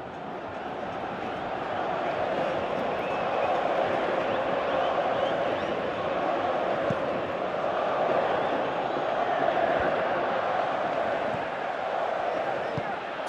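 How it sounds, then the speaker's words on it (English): A stadium crowd in the PES 2018 football video game on PS3, Brazil versus Belgium, keeps up a steady, swelling murmur and roar across the whole stretch, with no distinct cheers standing out. "you can feel and hear how the crowd are reacting to all of this"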